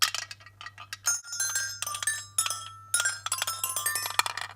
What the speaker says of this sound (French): Glockenspiel ou carillon qui marche avec des petites billes comme ceci